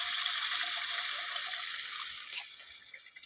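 Tamarind juice pours into a fish curry with fried onions, a steady bright watery stream that slowly fades over a few seconds.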